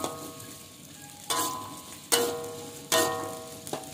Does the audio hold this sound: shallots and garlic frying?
yes